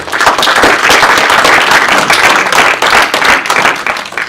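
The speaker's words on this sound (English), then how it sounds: "Warm round of applause" Warm applause from an audience at a Glasgow discussion event, a dense, loud, sustained wash of many hands clapping that carries steadily through the whole stretch with no voices.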